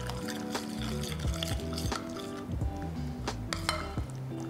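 A paneer tikka marinade with crushed kasuri methi is mixed in a bowl, with steady, rhythmic, wet squishing strokes and light clinks of a spoon against the bowl, close and continuous.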